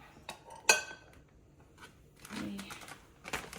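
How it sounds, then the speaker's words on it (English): All-purpose flour spooned into a bowl for a hot wing coating: a few soft clinks and scrapes of a spoon against the bowl, with a brief rustling pour, close and fairly quiet. "So just do 3 spoons of all-purpose flour"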